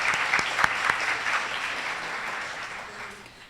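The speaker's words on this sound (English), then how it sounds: "Let's give them a round of applause." An audience at an annual meeting applauds, a dense wash of clapping that starts full and slowly fades toward the end, with a few sharp individual claps near the front.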